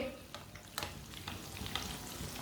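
Eggplant slices frying in oil in a pan, a steady close sizzle with several sharp pops and crackles scattered throughout.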